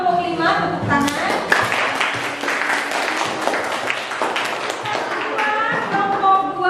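A classroom group applauds after the first-place result for group five is announced, a dense, lively burst of many hands clapping at close range, steady and sustained, with a few voices mixed in.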